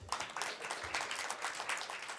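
Audience applause at the launch of a 2023 census main report, a brief, faint patter of clapping from a crowd that stays fairly steady for a couple of seconds.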